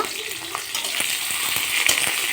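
Onion and garlic frying in a pan for a spinach dish, a steady close, bright sizzle with a few stirring scrapes and clicks throughout.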